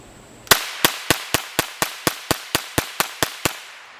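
Twelve rapid, evenly spaced .22 rimfire shots from a Smith & Wesson M&P FPC folding pistol carbine fitted with an optic, each a sharp crack with a short decay, close and loud against a quiet background.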